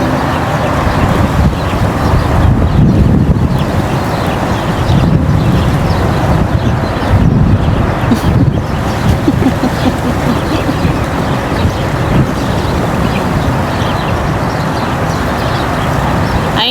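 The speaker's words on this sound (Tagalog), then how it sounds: "Sobrang mahangin." Strong wind buffets the microphone with a loud, continuous low roar and gusty surges, and no voices are heard.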